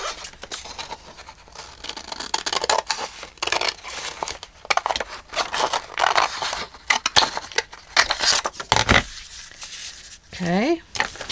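Scissors cutting a book page for a decorative paper envelope, with repeated crisp snips and crinkling paper rustles coming in irregular bursts, close by, and a short squeaky sound near the end.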